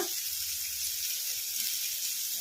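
Onions sizzling in a pan with turmeric for a hotel-style onion chutney, a steady soft frying hiss throughout with no talk.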